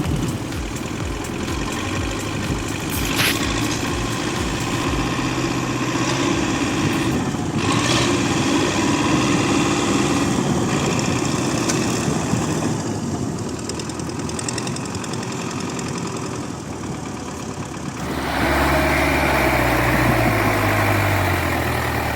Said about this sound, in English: Zetor 7745 pulled those logs like a beast.